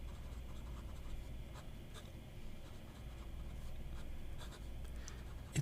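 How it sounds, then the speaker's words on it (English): A flexi nib fountain pen writes on paper close up, a soft continuous scratching with small strokes and taps, alone in a quiet room. "it's kind of a flexi nib that you can write on an everyday basis"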